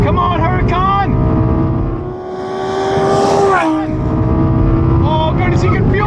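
Lamborghini Huracán at high speed on dusty ground, engine note rising and falling through gear changes under a heavy roar of wind and tire noise, close and loud.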